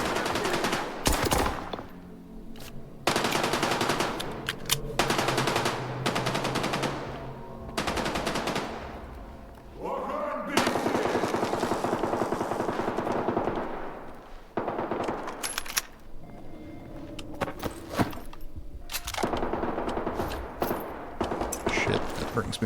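Suppressed automatic gunfire in the STALKER 2: Heart of Chornobyl video game, with repeated bursts of rapid muffled shots separated by brief gaps, moderately loud, plus some in-game ambient noise.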